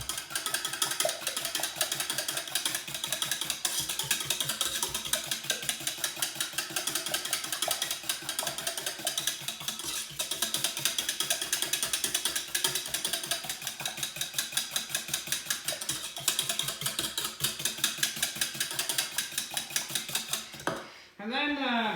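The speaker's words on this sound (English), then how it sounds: "So we keep whisking that." Rapid, steady whisking of a scrambled egg mixture with cream and butter, a dense metallic clatter running almost continuously and loud for about twenty seconds before stopping abruptly near the end.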